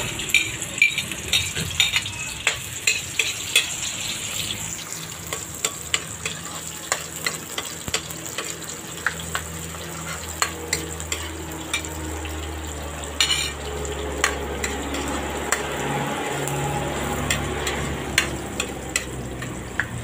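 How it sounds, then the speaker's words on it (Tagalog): Onion frying in a pan for a broccoli, snow pea and sotanghon dish: a steady hiss of sizzling oil with frequent sharp ticks and scrapes of a utensil stirring, running continuously and close up. "Lagay ko na yung sibuyas."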